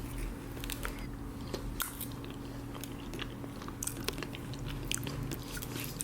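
Close, crunchy bites into toaster-oven-warmed apple pie, a few crisp crunches and soft chewing over steady background hum, with no talking.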